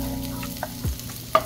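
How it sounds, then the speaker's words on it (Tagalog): Onions sautéing in a little cooking oil in a pan, with a close, continuous sizzle and a few soft stirring scrapes over a brief moment; no voices. "Next, igigisa na natin yung ating sibuyas."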